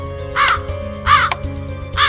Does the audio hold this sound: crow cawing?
yes